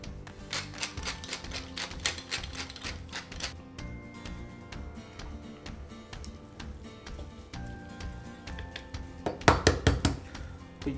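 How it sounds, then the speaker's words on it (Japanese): A knife thinly slices mushrooms, large ones first halved, on a cutting board in a home kitchen: quick, close, rhythmic taps in steady runs, ending in a louder cluster of knocks. "大きいやつはね、半分にして食べやすいサイズに調整してから薄切りにしてください"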